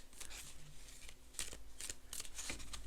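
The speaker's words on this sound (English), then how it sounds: "We're going to give them a shuffle." Savings challenge cards are shuffled by hand in a series of quick, crisp riffling bursts, close and fairly loud, with no talking.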